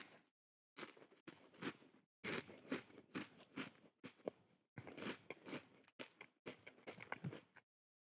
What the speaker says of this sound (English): do you guys hear me eating?